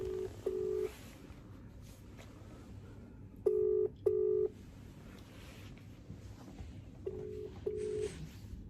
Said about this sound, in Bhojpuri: और देखो अभी अभी अभी मेरा फोन जा रहा है फिर देखिए उठा ले भाई